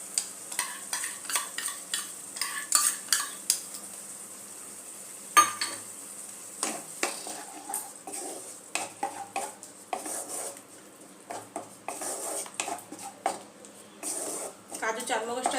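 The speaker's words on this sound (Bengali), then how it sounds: "কাজু চারমগজটা দিয়েও আমি আরো 2 মিনিট একটু কষিয়ে নেব মশলাটাকে।" Masala of ginger, tomato and ground cashew and melon seed paste stir-fried in a pan, with repeated scraping and clinking of a spatula over a soft sizzle while someone talks.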